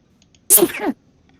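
A single sharp, close sneeze bursting out in a quiet room, lasting under half a second.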